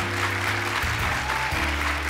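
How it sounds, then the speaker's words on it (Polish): Studio audience on a Polish TV talk show applauding guests, a dense, steady clapping that fills the whole two seconds at an even level with no talk over it. "Wielkie brawa dla moich gości."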